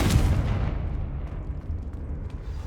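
A Confringo fire spell explodes in the Hogwarts Legacy wizard game, a loud low boom at the start that fades into a rumbling tail, with no talking.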